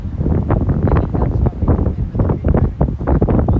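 Wind buffets the microphone outdoors at the Tecumseh Memorial on a hot summer day, a loud, continuous rumbling roar with uneven gusty surges and no voices.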